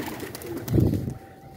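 A pigeon coos briefly on a wall near a net trap, a short low throaty call rising and fading within a second, fairly close, with light outdoor background.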